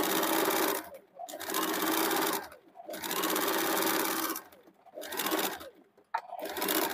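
A sewing machine stitches cotton saree fabric into a kurti, whirring loudly in long bursts separated by short pauses as the fabric is repositioned, with a faint thump near the end.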